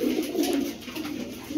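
Punjabi Chhatri pigeons cooing close by, a steady low throaty cooing that rolls on continuously and fairly loud with no talking.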